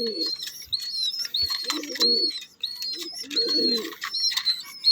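Young racing pigeons in a new double cage, giving repeated soft cooing and chirping calls with brief wing flutters and shuffling, close up and without speech.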